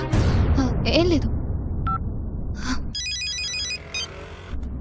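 A mobile phone rings with an incoming call, dialed from another phone to find where it was left; a short repeating electronic ringtone sounds amid background music and voices.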